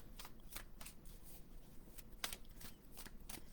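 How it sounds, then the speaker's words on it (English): Tarot cards being shuffled, a run of quick crisp riffling snaps and soft slides, close but faint, with no voices. "we're just going to shuffle the cards"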